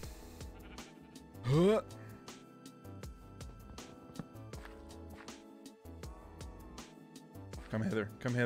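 A sheep bleats twice in the Minecraft Vault Hunters game, short wavering cries heard amid background music and someone talking.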